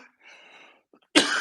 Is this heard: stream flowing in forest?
no